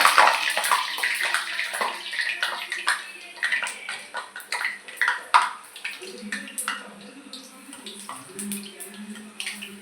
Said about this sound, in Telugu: పూరి అయితే వేసేస్తున్నామండి. పూరి అలా ఆయిల్లో దిగిపోతుంది.